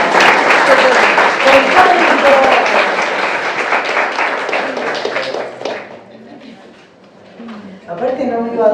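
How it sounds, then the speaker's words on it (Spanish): Audience applause fills a lecture hall, a dense wash of clapping that holds for about six seconds and then thins out, followed by a voice speaking over the quieter room. "Un aplauso para el Estado."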